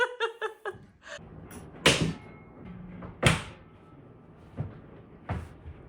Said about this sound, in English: 2 minutes and 4 seconds to take a door off and install it